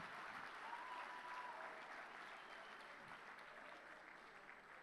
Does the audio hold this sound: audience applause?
yes